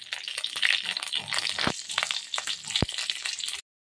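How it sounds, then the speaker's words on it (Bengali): Black mustard seeds crackle and spit in hot oil for a tempering for coconut chutney, a dense, close, continuous sizzle with sharp popping bursts, ending abruptly in silence. "এবারে এই যে কালো সর্ষেগুলো দিয়ে দিচ্ছি, রাই সর্ষেটা। এই এবার ভেজে নেওয়া পালা।"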